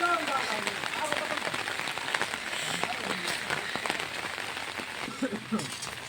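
Heavy rain pours down in a dense, steady hiss of drops striking surfaces, continuous throughout, with a few brief knocks and thuds mixed in.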